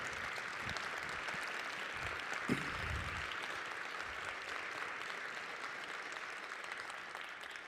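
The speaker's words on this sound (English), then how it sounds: "let's give a nice round of applause to all of our music teachers here at the high school and in the district." Audience applause at a high school concert band and wind ensemble concert, a steady wash of clapping from a full hall, moderately distant and continuous.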